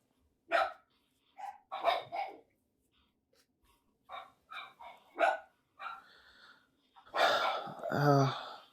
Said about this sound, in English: I can still hear the dog barking